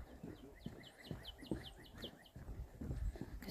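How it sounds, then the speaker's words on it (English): Birds chirp in steady repeated tweets along a nature trail at Ha Ha Tonka State Park, moderately near, over footsteps and low outdoor rustle. "Because those birds chirping."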